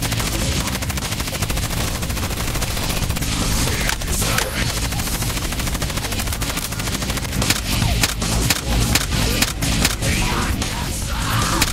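Dense, continuous gunfire from a video game battle against a wrath demon, with machine-gun bursts and overlapping shots thundering nonstop at close range along with splintering impacts and booms.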